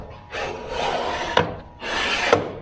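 Slide of a homemade DIY metal lathe built mostly from on-hand materials being pushed back and forth: two smooth rasping scrapes, each ending in a sharp click, close and fairly quiet.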